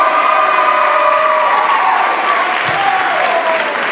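A school auditorium crowd at a senior class awards night claps and cheers loudly and continuously, a dense wash of applause with scattered shouts throughout.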